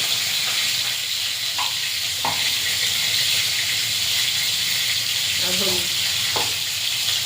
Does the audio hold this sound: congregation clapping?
no